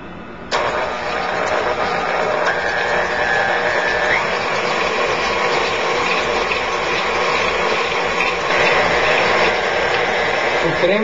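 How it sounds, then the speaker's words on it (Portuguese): Stand mixer at medium speed beating sugar and butter into a smooth cream for a pear and chocolate tart, a steady mechanical whir with rattling beaters that starts abruptly and runs on continuously, close by. "Coloque o açúcar e a manteiga na batedeira e bata até formar um creme homogêneo em velocidade média"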